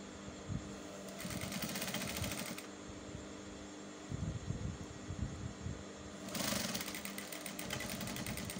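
A sewing machine stitches close to the tucked fabric edges of a beret, running in rapid mechanical bursts with short pauses between runs, near and fairly quiet.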